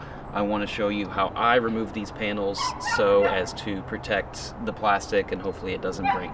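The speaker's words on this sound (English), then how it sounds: "I apologize if you hear our neighbor's barking dog," A neighbor's dog barks and yips repeatedly in short bursts, somewhat distant, mixed under someone talking steadily throughout.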